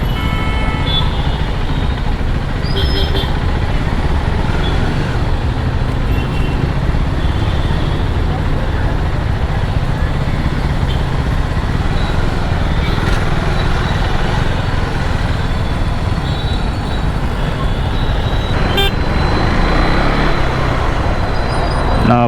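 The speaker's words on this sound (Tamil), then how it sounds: "என்னடா இது டிராஃபிக்." Dense Chennai road traffic heard from a KTM Duke 390 motorcycle, with a constant rumble of engines and road noise, occasional horn toots and a rider talking over it.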